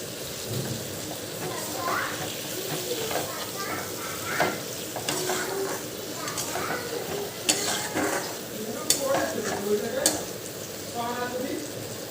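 Egg curry seasoned with spices and salt simmers and sizzles steadily in a pan, with intermittent spoon scrapes and clinks over a continuous bubbling hiss.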